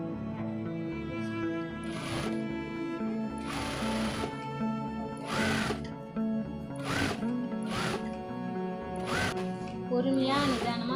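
A sewing machine stitching a blouse lining runs in a series of short, regular bursts about every second or two, with someone talking throughout.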